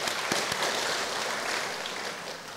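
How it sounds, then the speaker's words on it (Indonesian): Congregation applauding the worship team at a church service, a steady dense wash of clapping filling the room and holding evenly throughout. "Kita berikan aplaus dulu kepada tim worship"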